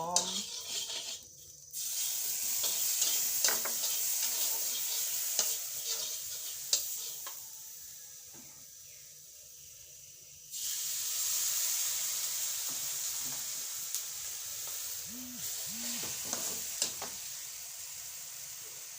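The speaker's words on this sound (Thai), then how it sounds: "ผัดเครื่องพะโล้ให้หอม" Thai five-spice palo spices stir-fried in a pan, a steady soft sizzle with intermittent scraping and clinking stirs, one stretch quieter before the frying noise swells again, no speech.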